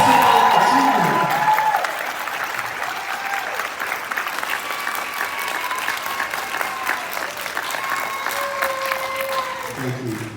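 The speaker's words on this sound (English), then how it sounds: "Let's give our grads a resounding round of applause for this exceptional achievement" A graduation ceremony audience at a campus in Fort Lauderdale claps steadily for the graduates, a broad sustained round of applause that opens under a brief voice and continues alone.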